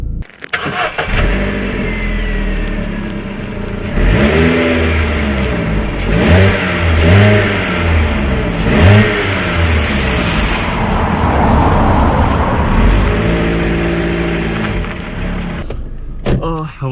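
A 2013 Vauxhall Astra 1.4 SRI with 76,000 miles cranks and fires up, then its engine revs in several rising and falling swells before settling, loud and close, with a voice speaking briefly near the start.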